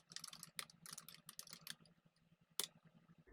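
Quiet, rapid clicking of keys on a computer keyboard, a quick burst of typing and then a single louder keystroke after a pause.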